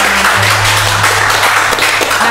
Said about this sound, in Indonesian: saya minta tepuk tangan dulu dong buat